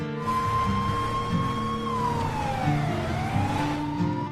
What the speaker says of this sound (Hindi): पुलिस के सायरन की आवाज थी।